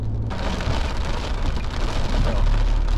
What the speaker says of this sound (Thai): ตอนนี้ฝนก็ตกแล้วนะครับ